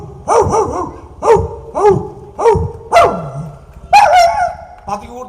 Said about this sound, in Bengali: আমার পাতি কুকুরের আওয়াজ